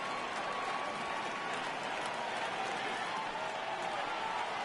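Baseball stadium crowd in MLB The Show 18 rising on a full count, a broad, steady roar of cheering and clapping that holds throughout, with faint talk underneath.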